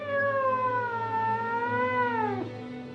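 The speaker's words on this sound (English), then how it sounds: "Meow, I thought. What kind of a scary noise was that?" A cat gives one long, drawn-out meow that wavers in pitch before breaking off near the end, heard close and clear over a low steady hum.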